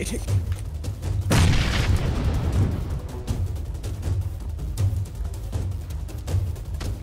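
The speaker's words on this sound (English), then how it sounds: "oh, that's a grenade" A grenade blows up in the battle royale game PUBG, a heavy boom followed by rumbling low-end combat noise, with players talking over the game sound.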